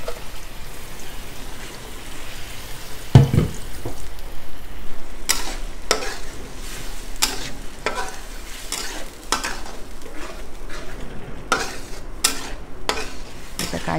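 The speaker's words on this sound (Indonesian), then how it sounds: "Kita kacau dia sampai dia terbit minyak." Curry paste of blended ingredients fries in a pan while a spoon stirs it, making a thick sizzle broken by regular scraping strokes that grow more rhythmic after a sharp knock, close and loud, with no voices.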